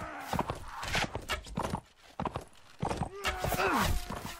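Horse hooves clip-clop in the Mount and Blade Warband video game, a busy run of hoof thuds with clattering battle noise and a whinny near the end, loud and close throughout.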